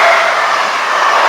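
Train passing through Retford station at close range, a steady loud broadband roar of rolling stock with no break across the short stretch and no voices.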